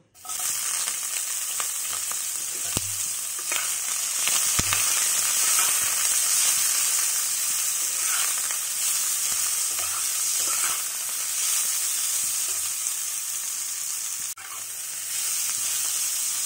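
Beans hiss and sizzle in hot oil in a wok, a loud, continuous frying crackle with a few sharp clinks and stirring scrapes throughout.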